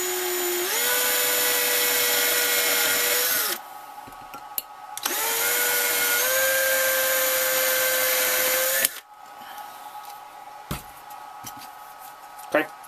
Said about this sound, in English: And we're going to drill right into these marks.